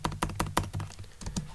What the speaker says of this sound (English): let's type here the user